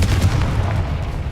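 A Confringo blasting spell explodes during combat in Hogwarts Legacy, a loud, close burst of booming impacts packed into a short rush of low rumble.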